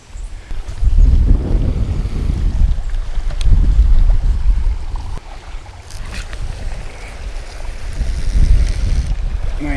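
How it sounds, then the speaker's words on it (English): Strong wind of 15-20 mph gusts across an outdoor carp fishing spot, a loud, steady roar that rises and falls in waves and buffets the microphone for the whole stretch, with no one speaking. "It's kind of windy. 15-20 miles an hour wind, I think."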